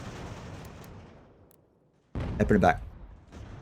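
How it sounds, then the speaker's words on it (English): A cannon shot in the strategy game Ultimate General: American Revolution lands as a sudden loud boom with a short rumbling tail, while a voice speaks over the battle noise. "did you see that cannon shot?"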